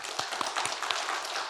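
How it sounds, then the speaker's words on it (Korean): Korean church congregation at a 48th founding anniversary service, clapping in a steady wash of applause with a few distinct claps standing out over about a second and a half. "박수로 하나님께 영광 드렸으면 좋겠습니다."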